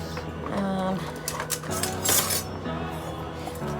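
In a kitchen, a metal spoon clinks and rattles against other cutlery as it is grabbed, with light close metallic chinks over a humming background.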